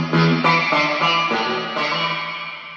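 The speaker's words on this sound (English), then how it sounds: "Reverb all the way up sounds like this." Electric guitar through a 1964 Gibson Scout GA-17 Crest Line amplifier with its reverb turned all the way up, a few strummed chords ringing out into a long washy tail, loud and close.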